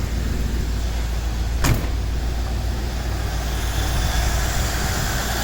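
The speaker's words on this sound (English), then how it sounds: "Just walk around the car while it's running." A 1981 Buick Electra Park Avenue idles steadily after a cold start, a constant broadband engine and exhaust rumble close by, with one brief sharp click or knock partway through and no talking.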